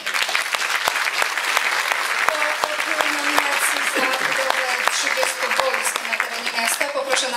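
An audience applauds steadily at a city award ceremony honoring a Third Age University, the dense clapping running throughout while a voice and faint tones sound underneath.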